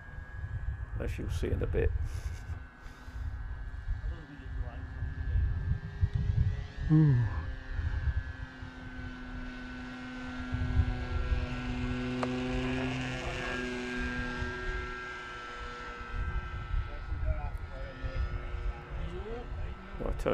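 An RC model ambulance airplane flies through a long droning engine hum that rises and falls as it passes, with a rising whine near the middle, heard under someone talking outdoors.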